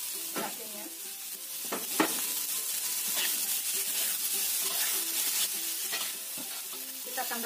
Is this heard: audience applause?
no